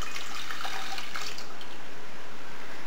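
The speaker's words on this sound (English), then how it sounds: "into the saucepan I'm going to pour the stock I've just made" Homemade stock poured into a large saucepan, a loud, steady splashing and gurgling stream of liquid close by, continuous with no talk over it.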